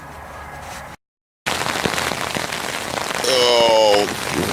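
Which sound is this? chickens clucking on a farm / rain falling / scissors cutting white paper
rain falling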